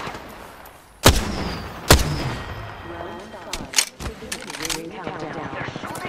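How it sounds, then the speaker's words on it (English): Sharp enemy gunshots crack out in a naval video game, two loud blasts near the start followed by a scatter of smaller bursts and impacts, with a voice speaking in between. "They're shooting at me."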